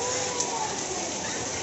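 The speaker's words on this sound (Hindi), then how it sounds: "देखिए गाइस, इतना बारिश हो रहा है" Heavy rain pours down outdoors in a steady, dense hiss that fills the whole clip without a break, fairly loud and close.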